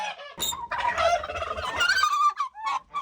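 Turkeys gobble loudly and close by, a burbling rattling call that rises and repeats across a few seconds.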